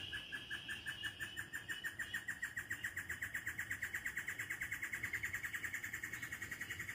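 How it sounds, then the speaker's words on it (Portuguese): Small birds sing in a steady run of rapid, evenly spaced chirps at a riverside campsite on the Meia Ponte River, moderately close and unbroken over a low background rumble, with no talking. "passarinho cantando"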